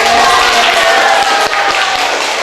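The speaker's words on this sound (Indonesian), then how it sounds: "Ya, tepuk tangan." A school class applauds together indoors, a dense, loud patter of many hands clapping over a couple of seconds.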